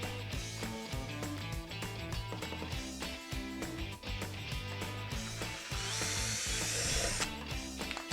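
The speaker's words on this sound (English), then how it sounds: "Re-drill a hole and at least put 1 screw in the top" A power drill whirs close by, driving screws into wood, its motor pitch rising and falling as it bites in continuous runs.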